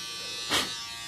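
Steady electric buzz from a rechargeable hair remover trimmer running close by, with a brief louder swell in the middle, heard alone.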